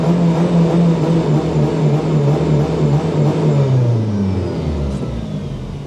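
Race car engine at the start line: a loud, close, continuous roar with revs held high, then gradually dropping in pitch over several seconds, alone without speech.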